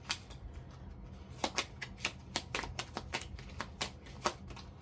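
A Kipper tarot card deck being shuffled, a run of quick crisp riffling snaps and flicks, close and fairly quiet, with uneven clusters of sharp clicks.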